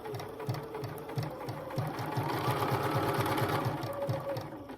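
A home sewing machine stitches a personalized pillowcase in a steady, rapid rhythm, close and clear, with a few brief stops and restarts before it runs on continuously.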